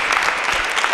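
Dense, steady clapping from a crowd at a youth choir performance, loud and close, sustained for the whole brief moment.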